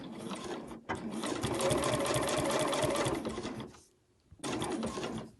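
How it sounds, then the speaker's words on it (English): A sewing machine back stitching runs in a steady whirring burst, pauses briefly, then starts up again, close and loud with no talking. "Let's do a back stitch to begin with."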